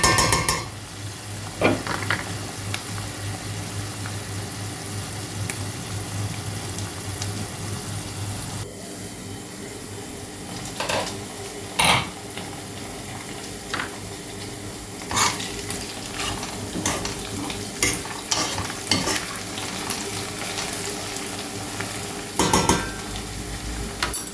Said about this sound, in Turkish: Soğanla biber iyicene kızarsın. Kızardıkça daha lezzetli oluyor.